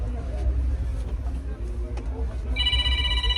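An electronic phone ring starts partway through, a steady repeating tone over rumbling traffic and background chatter.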